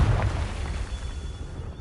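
A Confringo blasting spell exploding in the Hogwarts Legacy game, one heavy low boom at the start that rumbles and fades over the following moments.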